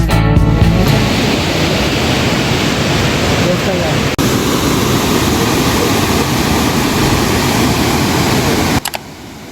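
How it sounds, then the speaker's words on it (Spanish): Loud, constant roar of the Agua Azul waterfalls in Chiapas close by, a dense wash of noise with brief handling bumps and a cut near the end. "fue el turno de explorar las famosas cascadas de Agua Azul"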